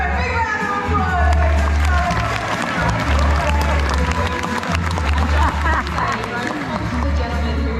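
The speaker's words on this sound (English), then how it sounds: "Give her a big round of applause." Crowd at an Australia Zoo wildlife show claps and cheers amid busy outdoor noise, with children's voices and chatter mixed in and a low rumble throughout, the applause fairly loud but blended with talk.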